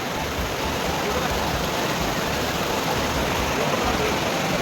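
Small waterfall or spring near Lonavala with water pouring steadily, a continuous broadband rush that stays loud and even throughout.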